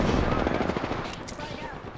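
Dense automatic gunfire in the battle-royale game Apex Legends, loud and continuous rapid bursts at close range, filling the whole moment with rattling shots.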